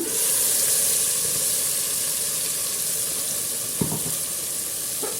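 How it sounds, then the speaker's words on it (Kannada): Ground masala paste for a sprouts curry sizzles and hisses steadily in hot oil in a pan, with a couple of faint stirring knocks and no talking. "ರುಬ್ಕೊಂಡಿರೋ ಮಸಾಲೆನ ಹಾಕ್ಕೊಂಡು ಸ್ವಲ್ಪ ಹೊತ್ತು ಫ್ರೈ ಮಾಡ್ತಾಯಿದ್ದೀನಿ"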